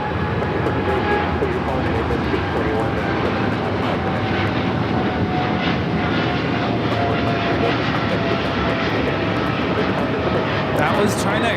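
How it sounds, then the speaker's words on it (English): A China Airlines Cargo Boeing 777 freighter takes off from Los Angeles airport with a loud, steady, rumbling engine roar that fills the whole stretch, and talk sits underneath. "That was China Airlines Cargo 5153 taking off to Tokyo Narita on the 777 freighter."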